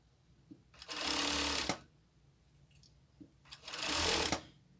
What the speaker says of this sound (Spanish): Seguimos cosiendo lo que viene siendo el contorno de cuello.